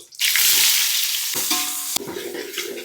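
Onions, cashews and whole garam masala frying in hot oil for a village-style sea prawn pulao, a loud, steady close sizzle with a brief stirring scrape partway through and no talking.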